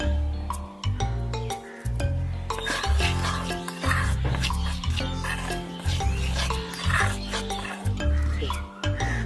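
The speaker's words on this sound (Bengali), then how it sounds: "বেসনের ভিতর লবণ আর হলুদটা আমি ভালো করে মিশিয়ে নিয়েছি।" A spoon works salt and turmeric through gram flour (besan) in a bowl, with rhythmic scraping and light clinks against the dish over steady background music.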